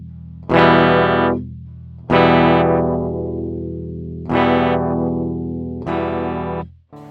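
An all-metal-bodied electric guitar plays four loud, distorted, sustained chords with a slightly phasey, warbling tone, each ringing out before the next hit, ending in an abrupt mute with no talking.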